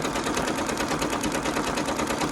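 A Brother PRS 100 embroidery machine stitches steadily, its rapid needle rattling in a dense, even mechanical rhythm, loud and close with no talking.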